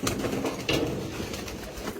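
Damascene pigeons coo softly and continuously, with low rolling calls close by and no voices.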